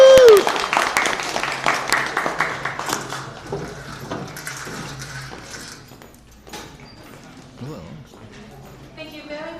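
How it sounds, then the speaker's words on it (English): A convention audience at Torchcon claps and cheers for cosplayers, loud at first and then fading to scattered claps and crowd murmur as a voice speaks. "One more round of applause for our cosplayers."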